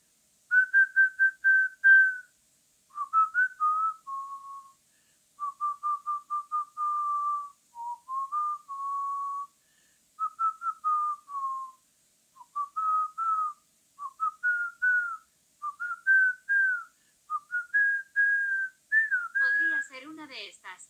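A person whistles a melody alone, clear, close, pure tones in short phrased bursts across about twenty seconds, with a brief noisy sound at the very end.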